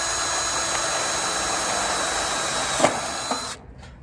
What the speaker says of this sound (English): So I'll put a couple of rivets in.